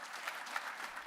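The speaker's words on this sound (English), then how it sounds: "Please give all of them a round of applause." Brief, faint applause for high school students on a college campus, a dense patter of clapping with no voices over it.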